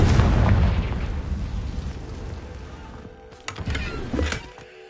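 A Confringo spell explosion in the video game Hogwarts Legacy: a loud, deep blast that rumbles and fades over a few seconds, followed by a couple of smaller crackling pops.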